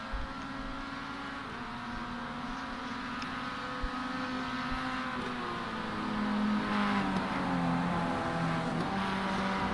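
A race car engine drones in the distance while the driver feathers the throttle, its pitch wavering and rising and falling through the corner, swelling a little louder toward the end.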